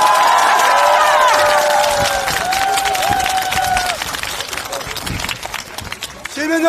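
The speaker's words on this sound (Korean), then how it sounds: "동의하시면 박수 한번 보내주시기 바랍니다" A political rally crowd cheers and claps, a burst of noisy applause with whistles and shouted tones that fades gradually over several seconds.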